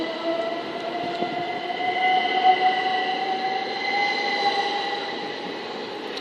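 A Class 377 electric train at East Croydon station gives a steady, moderately loud rail hum with sustained tonal whines, running continuously throughout without any voices.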